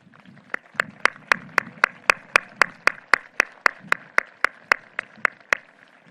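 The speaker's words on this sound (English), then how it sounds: "seniors, please stand and give your family members a round of applause." Graduation audience at the Pittsford Mendon Class of 2021 ceremony applauding family members, heard as about twenty sharp, evenly spaced claps in a steady rhythm, close and fairly loud, over a faint murmur of crowd noise.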